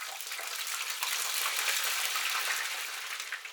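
Pork pieces deep frying in hot oil at about 190 degrees give off a dense, steady crackling sizzle, close and continuous, with no voices.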